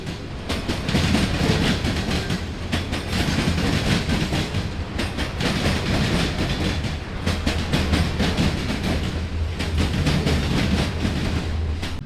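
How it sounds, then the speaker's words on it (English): A daily mixed freight train rumbles northbound past nearby in Cordele, Georgia, loud and continuous, its wheels clattering in a rapid, steady rhythm over the rails throughout. "it's a daily mixed freight that comes through northbound coming this way"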